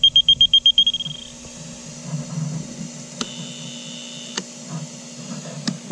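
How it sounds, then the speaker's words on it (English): A rapid series of about nine sharp electronic beeps from an aerobic septic system alarm buzzer, fading quickly, followed by low background hum and a few faint clicks. "So this alarm works, but this buzzer is really, really quiet."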